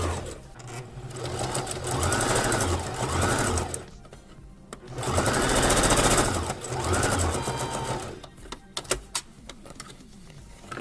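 Sewing machine running a reverse stitch on upcycled clothing, in several sustained whirring bursts with short pauses between them, ending in a few faint clicks.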